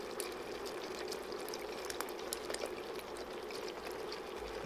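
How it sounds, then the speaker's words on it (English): Worcestershire sauce, roughly four tablespoons, is poured into a pot of beef barley soup, a soft continuous trickle with faint spattering, close by and uninterrupted. "Now I'm going to go ahead and add about 4 tablespoons of Worcestershire sauce."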